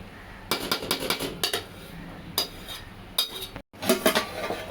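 Masala rice stirred in a metal pot with a spoon: a run of quick scraping clinks and knocks, then a brief pause and a lid set down with a clatter, followed by more close metallic rattles.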